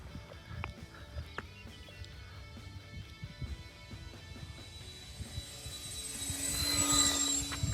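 An RC model OV-10 Bronco airplane flies touch-and-goes over a runway. Its engine drone starts faint and distant, then swells steadily louder toward the end as it passes closer.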